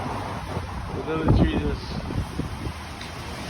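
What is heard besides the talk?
strong wind blowing in downtown Seattle street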